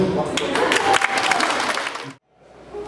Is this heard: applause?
yes